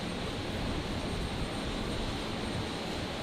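An Airbus A380 jet roars at Brisbane Airport, a loud continuous broadband engine rumble with no break or talk over it.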